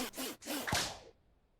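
A rope cut with a hunting knife as a video game sound effect: one brief airy swish, a quick double sweep that fades out within a second.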